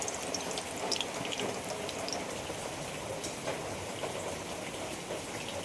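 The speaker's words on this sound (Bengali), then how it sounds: "কড়াইতে সরষের তেল দিয়ে দিচ্ছি।" Mustard oil going into a hot wok for frying prawns makes a faint, even crackle and patter, like light rain, steady throughout with no voices.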